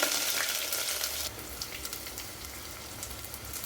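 Sliced onions drop into hot oil already crackling with mustard seeds and curry leaves. A bright, loud spatter opens the sound, then settles into a softer, steady sizzle with light popping.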